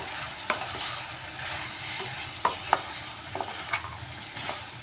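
Kohlrabi and potato with added seeds being stir-fried in a pan, a steady sizzle broken by a string of sharp spatula scrapes and clicks, close by, with no voices.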